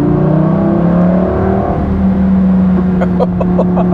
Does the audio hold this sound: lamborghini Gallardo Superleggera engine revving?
yes